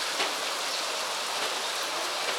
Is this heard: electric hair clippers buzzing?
no